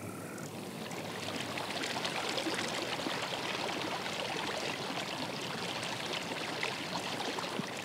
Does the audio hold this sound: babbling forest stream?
yes